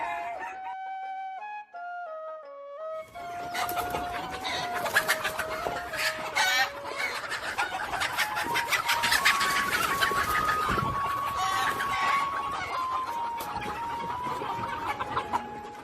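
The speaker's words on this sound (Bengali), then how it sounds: "আমার প্রায় পাঁচশো পঞ্চাশ পিস দেশি মুরগি আছে" Native desi hens on a poultry farm with about five hundred fifty birds cluck and a rooster crows in a dense, continuous chorus, loud and close, with no talk.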